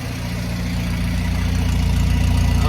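Carbureted engine of a 1952 Willys CJ5 Jeep idling close by, a steady low rumble with an even, throbbing pulse that grows slightly louder throughout, with no voices.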